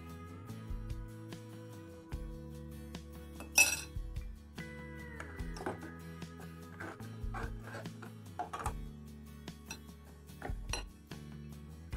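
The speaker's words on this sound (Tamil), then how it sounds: "அதை வந்து கொஞ்சம் கொஞ்சமாக ஊற்றி மிக்ஸ் பண்ணிடலாம்" Sugar and egg mixture poured bit by bit and mixed into a homemade vanilla ice cream base, with repeated soft clinks and scrapes of a utensil against a bowl in an irregular rhythm, close and fairly quiet.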